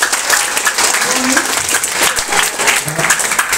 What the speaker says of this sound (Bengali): Moinak's জন্য একটা হাততালি হবে